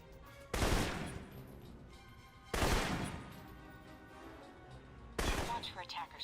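Alpha Protocol assault rifle fire, three loud, separate shots or short bursts spaced about two seconds apart, each with a ringing tail that fades into a quiet background.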